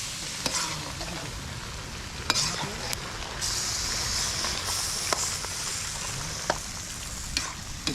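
Green chilies stirred into chicken karahi cooking outdoors in the wild, a continuous close sizzle with occasional sharp scrapes and clatters of a spoon against the wok.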